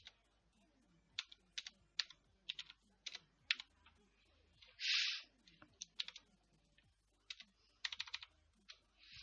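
Typing on a QWERTY computer keyboard while setting up Windows 1.0 in VirtualBox: close, quiet bursts of rapid key clicks with short pauses between them and one brief louder rush midway, no talking.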